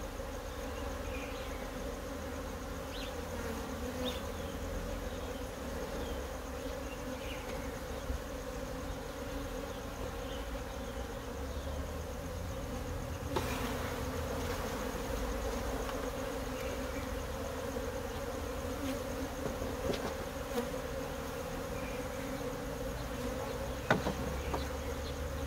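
Honey bees buzz around an open hive during rehiving with new queens in South Africa, a dense, continuous low hum with individual insects passing close by, steady and moderately faint, with no voices.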